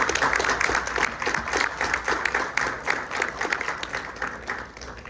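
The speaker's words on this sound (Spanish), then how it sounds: "Le damos un fuerte aplauso a nuestro conferencista." A conference audience applauds a speaker with dense, sustained clapping from many hands, loud and even throughout with no gaps.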